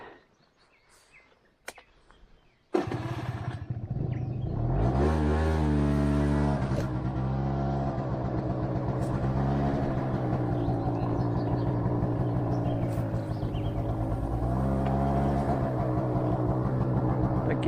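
A scooter engine starts after a few quiet seconds and then drones steadily up close, rising and falling in pitch as it rides through countryside in Chernihiv region.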